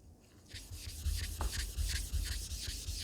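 An Atoma diamond plate scrubs back and forth across a wet razor sharpening stone in quick, regular gritty strokes, close and fairly loud, with no talking.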